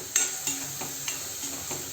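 Spices sautéed with homemade red chili powder in a pan for a brinjal and lentil dish, a steady close sizzle with a few rhythmic spoon stirs and scrapes, no talking.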